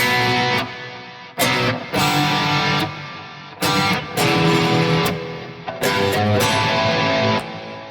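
A distorted electric guitar plays an 80s riff of heavy power chords starting on B, each held for about a second, with short gaps between them.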